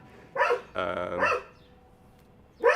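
A friendly dog on a sidewalk barks two or three times, close and fairly loud, with a short harmonic yelp between the first barks and quiet gaps in between.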